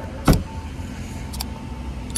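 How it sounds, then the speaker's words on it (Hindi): Tailgate of a 2024 Tata Altroz XM+ hatchback slamming shut, one sharp solid thud near the start, followed by a couple of fainter clicks over quiet background hum. "अब जो टेल गेट है वो अपना प्रॉपर एक क्लोज हो चुके हैं"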